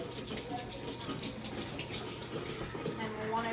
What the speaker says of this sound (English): I'm just gonna rinse out all the excess stone